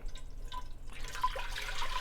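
Water poured from an oversized pitcher into a cooking pot in a home kitchen, a faint, steady trickling splash that builds slightly over a couple of seconds.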